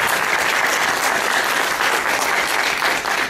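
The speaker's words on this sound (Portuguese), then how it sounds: "Uma salva de palmas para o Paulo Regenhoff." Audience applause at a magazine launch event in a museum, a dense steady clapping from a full room sustained throughout without a break.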